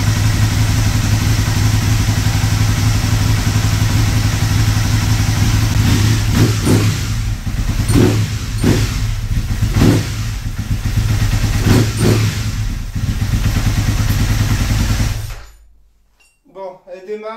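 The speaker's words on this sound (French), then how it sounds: "Le moteur fait moins de bruit que mon ancien bloc en tout cas." An Aprilia RSV Tuono 1000 motorcycle engine with a newly swapped engine block runs close by, a loud steady idle with a few brief revs, then it cuts out near the end.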